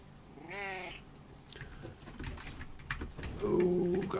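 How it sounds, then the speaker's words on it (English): A short cat meow stands out clearly near the start, with a second voiced, meow-like call near the end set against faint background clatter. "Meow."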